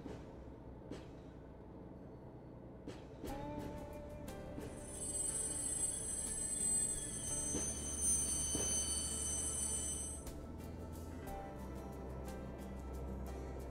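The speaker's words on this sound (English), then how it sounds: "it takes like an hour to get a steam train even warmed up in the morning" A steam train in the Train Mechanic Simulator 2017 video game gives a steady mechanical rumble with sustained hissing, whistle-like tones that swell in the middle and fade near the end. There is no talk.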